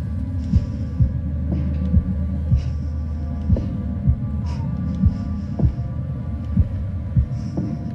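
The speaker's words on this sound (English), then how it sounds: "I forgot about the heartbeat thing." A heartbeat effect from the horror game The Devil in Me thuds in a steady, slightly quickening rhythm of about a dozen low beats, close and prominent over a constant droning hum with faint high tones.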